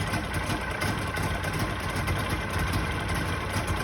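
A 1961 DKW two-stroke engine idling just after a cold start in warm weather, a close, steady, buzzy drone with a fast even putter that continues without a break.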